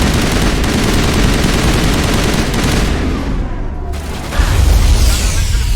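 Rapid, loud shotgun blasts from Mass Effect Legendary Edition gameplay, packed into a dense, continuous barrage with a heavier boom near the end.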